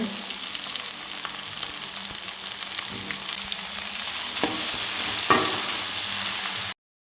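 Chili and capsicum fry in a pan for pasta with a steady, close hiss, a few light stirring clicks scattered through it, before the sound cuts off suddenly.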